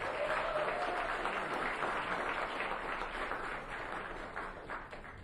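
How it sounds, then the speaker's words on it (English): An audience at an entrepreneur pitch event claps steadily, a fairly faint, even wash of applause that tapers slightly toward the end. "Give Liana another round of applause."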